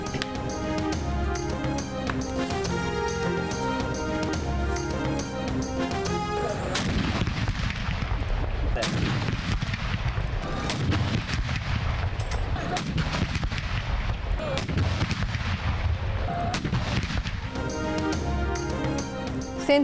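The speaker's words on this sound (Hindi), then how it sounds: "विफाकी दारुल हुकूमत इस्लामाबाद में 31 और सूबाई दारुल हुकूमतों में 21 तोपों की सलामी से हुआ" Heavy booms from a 21-gun artillery salute at a state ceremony in Pakistan repeat in a rolling sequence. A news broadcast plays underneath with music, and someone speaks over parts of it.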